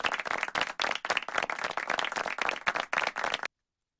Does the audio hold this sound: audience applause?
yes